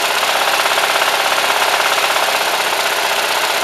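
A small engine, fitted with a new gas line, runs steadily through a long run-time test, giving a loud, continuous buzzing drone with a fast, even pulse and no voices.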